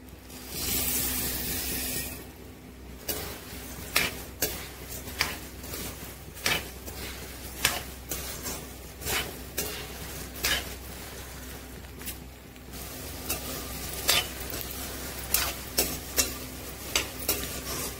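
Whole spices, coriander and coconut dry roast over a low flame, with a spatula scraping the pan in a steady run of regular strokes over a soft background hiss and no talking.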